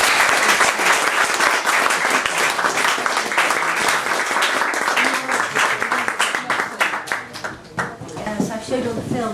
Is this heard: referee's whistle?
no